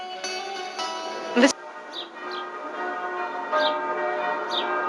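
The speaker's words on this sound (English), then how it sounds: "the bells ring out at the Church of the Holy Sepulchre" Church bells of the Church of the Holy Sepulchre in Jerusalem ring with sustained, overlapping tones that hang in the air, with a few faint bird chirps scattered in between.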